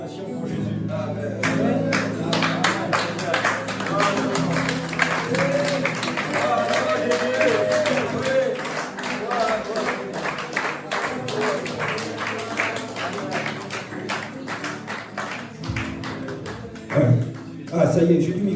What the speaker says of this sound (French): Est-ce qu'on pourrait faire une acclamation pour Jésus?